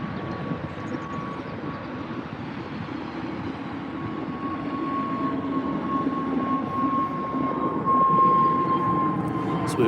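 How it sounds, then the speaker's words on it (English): A British Airways Airbus A320 departing Heathrow for Madrid, heard as a sustained roaring jet rumble with a steady whine, growing slightly louder toward the end, heard from the ground at a distance. "British Airways again off to Madrid on the A320 here"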